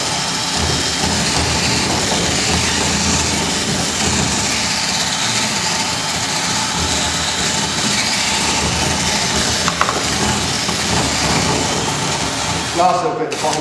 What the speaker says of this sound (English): What you're looking to be able to do is go up and down with your auger all the way through